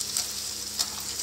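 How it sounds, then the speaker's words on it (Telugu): Fish pieces for a Telugu fish curry sizzle in a hot pan, a close, continuous crackle with a couple of brighter spits as pieces settle. "ఇప్పుడైతే నేను ముక్కలు వేస్తున్న చేప ముక్కలు అనేవి."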